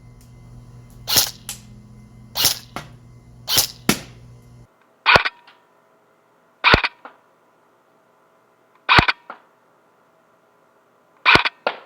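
An airsoft or Nerf gun fitted with a tactical scope fires at targets from about 45 to 50 feet, giving seven sharp, isolated pops at spaced intervals, the first few over a low hum, the rest against near silence.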